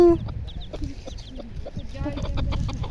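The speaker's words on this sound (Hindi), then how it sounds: "यहाँ पे एक नई मुर्गी आई और इसके 2 छोटे छोटे बच्चे हैं।" A hen with two small chicks clucks repeatedly in short, close bursts, with thin high chick peeps scattered over a busy outdoor background.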